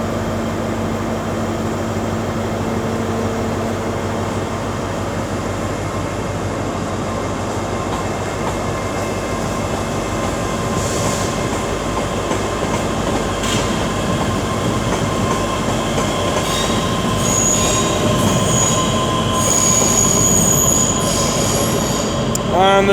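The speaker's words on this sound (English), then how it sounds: "we're getting ready to depart the 385009 with the 1225 ScotRail service to Falkirk" ScotRail class 385 unit 385009 pulls out of Glasgow Queen Street on the Falkirk Grahamston service, with loud sustained wheel squeal and rumbling rail noise close by, plus a few higher screeches and clicks as it moves off.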